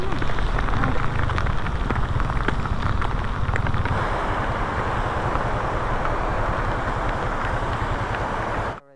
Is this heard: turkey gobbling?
no